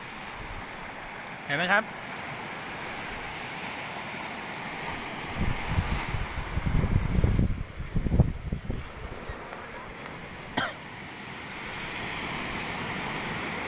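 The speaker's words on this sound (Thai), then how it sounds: "คลื่นลมแรงครับ" Strong wind and surf from storm Pabuk near a pier: a constant windy rush with heavier wave surges building midway, under brief talk from a man nearby.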